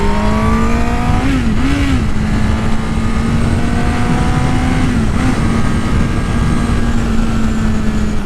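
A Honda CBR1000RR motorcycle accelerates hard on a freeway, its engine droning steadily and loudly beneath heavy wind roar, with brief pitch dips as it shifts gears.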